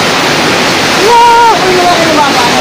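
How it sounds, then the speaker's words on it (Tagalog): Steady, loud roar of rough sea water churning and crashing during a ride to Buyayao Island, with a brief voice rising above the noise partway through. "Namumutay ang dagat."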